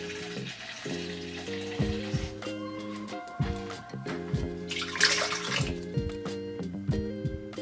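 Water runs from a tap into a container for bread dough, a close gurgling and splashing stream that changes pitch as it fills, with a few louder surges.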